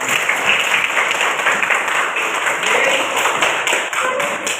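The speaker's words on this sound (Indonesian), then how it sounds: "Tepuk tangan dulu untuk kalian." A classroom of students claps together, a dense, steady burst of applause that stays loud throughout.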